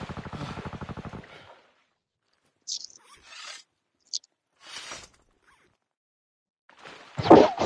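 Gunfire in the video game Call of Duty opens with a rapid burst of automatic shots, then after a quiet gap come scattered sharp bursts and rasping noises, ending with a loud final volley.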